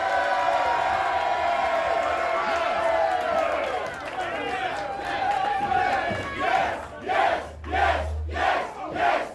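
Wrestling crowd at a Knoxville show roaring and cheering in a big continuous swell, then breaking into rhythmic rising-and-falling chants toward the end, with an announcer's voice underneath.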